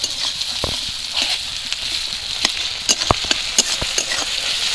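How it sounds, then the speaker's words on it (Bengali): Onions fry in fish oil in a pan, a steady close sizzle broken by sharp clicks and taps, probably a utensil against the pan. "পেঁয়াজও ভাজা হয়ে গেছে মাছের তেলটাও খুব সুন্দর করে ভাজা হয়ে গেছে"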